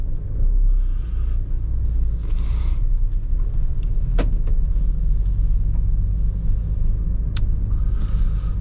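A car drives along a road, heard from inside as a steady low rumble of engine and road noise, with a few faint clicks and light rattles in the cabin.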